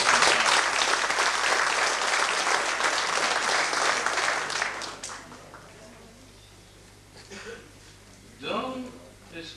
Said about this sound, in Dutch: Nou ja, hij mag toch een applaus.